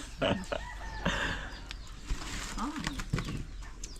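Chickens cluck and call nearby at a rural home during breakfast, with people talking over the birds throughout.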